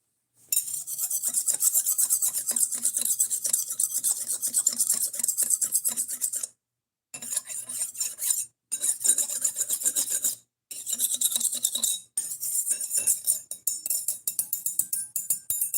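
A metal file rasps back and forth along a butter knife in close, loud repeated strokes, with harsh scraping bursts broken by a few short pauses, with no voices.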